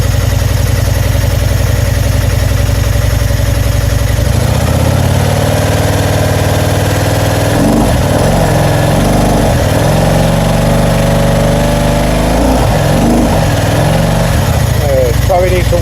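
A 2000 Excelsior Henderson motorcycle engine idling while it warms up, a loud, steady close rumble with a few small throttle blips partway through.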